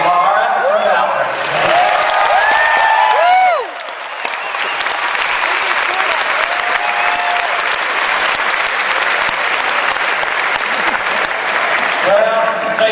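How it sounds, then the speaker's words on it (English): A large, enthusiastic political rally audience claps and cheers loudly and continuously, a dense roar of applause with scattered whistles and shouts sustained throughout. "this has to be about the most enthusiastic crowd"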